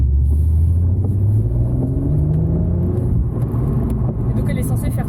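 A BMW M240i prepared for drifting hums with a steady low engine drone and slight rising tone, heard from inside the cabin while people talk over it.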